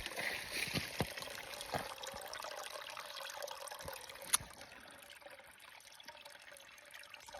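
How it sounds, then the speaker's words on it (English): A tiny forest creek trickles along a hiking loop, a faint steady gurgle and dribble of water close by, with a few light knocks and clicks and no speech. "I think I see water. Well, the tiniest little creek."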